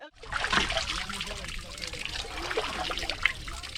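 Clean spring water at Ain Sarig in the Jerusalem Mountains trickles steadily into a deep pool, a continuous bubbling splash heard up close with small irregular gurgles.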